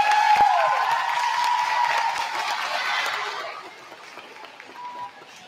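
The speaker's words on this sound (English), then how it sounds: "let's give all of our fourth and fifth grade performers a round of applause." At an elementary school talent show, an audience applauds fourth and fifth grade performers, a dense, close burst of clapping that thins and fades out over several seconds.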